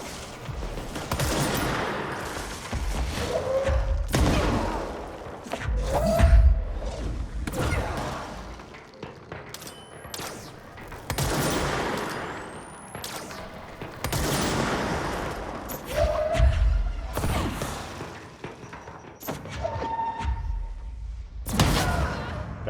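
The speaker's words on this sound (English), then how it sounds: "That was a grenade that I picked up, and I did not know that I had picked it up until it was in my face." Combat in the video game Control with a grenade blast among repeated heavy booms and bursts of gunfire, loud thuds spaced across the passage with whooshing effects between.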